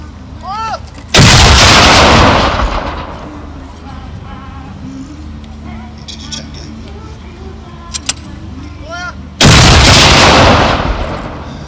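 Two deafening artillery gun blasts at a mock battle during a wartime re-enactment show, each a sharp boom with a long rumbling tail, several seconds apart, with crowd noise and faint voices in between.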